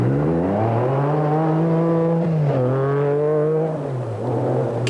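An MG Metro 6R4 rally car, the QCR Motors entry driven by Ian and Pat Beveridge, races a forest stage, its engine loud and close, revving up and down through gear changes.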